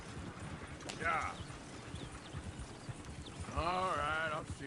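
Horse hooves clip-clop in the Red Dead video game, a steady rhythmic trot under voices, with two brief horse whinnies, one short and one longer near the end.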